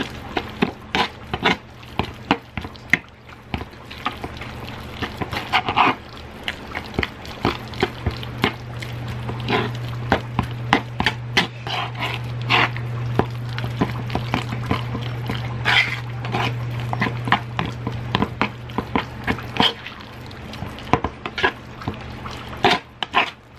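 Repeated scraping and grinding in a plastic molcajete, with uneven strokes coming close together over a low steady hum, mostly quiet with frequent sharper scrapes and clatters.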